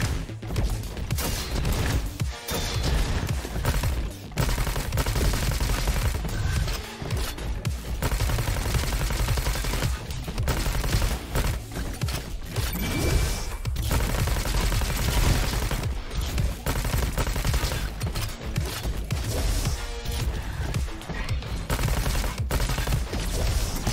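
Constant dense machine gun fire in the video game Roboquest, loud and rapid with crashes and impacts layered through the whole stretch.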